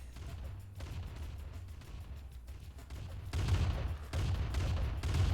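Grenadier infantry in Command & Conquer fire on a desert tournament map, a steady patter of small explosive shots under low battle rumble that swells into denser, louder bursts in the final two seconds.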